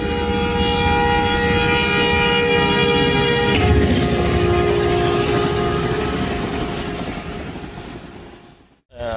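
A Business Express passenger train passes through Dhabeji station, its long sustained horn blaring loudly over the rumble of the train before the sound fades away.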